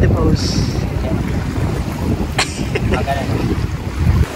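Strong wind roars and buffets the microphone continuously on a fishing outing as the water rises, with a rushing, noisy rumble and faint watery sounds underneath.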